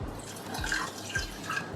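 Water trickles and drips into a saucepan of sugar for syrup, a soft, close, steady pour with small splashy drops and no voices.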